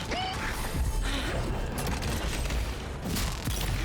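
Rapid gunfire crackles in a combat scene in the fantasy RPG Avowed, a dense, steady burst of shots and impacts running the whole stretch with a faint voice underneath.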